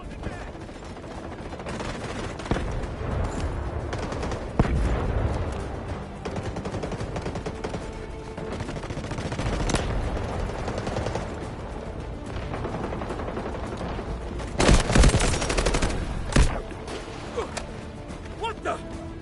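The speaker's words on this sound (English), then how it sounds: "Artillery barrage incoming." Artillery barrage and rapid gunfire in the video game Delta Force, a dense continuous rumble of shots and blasts with a heavier cluster of explosions near the end.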